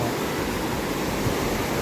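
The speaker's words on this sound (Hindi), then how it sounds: "इसकी स्पेशलिटी है रिवर साइड, फ्लो बहुत ज़्यादा तेज़ है।" Fast-flowing riverside water beside a resort on the route to Chanshal Pass, a steady broadband rush of current filling the whole moment, close and continuous with no voices.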